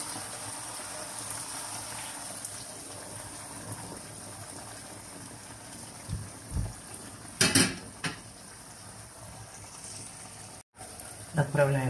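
Fried vegetables go into a pot of vegetarian borscht with a short burst of metal utensil clanks and scraping against the pot, set against a soft kitchen hiss, while a voice talks intermittently.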